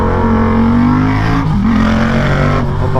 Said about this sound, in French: ce bruit du bicylindre qui reprend par régime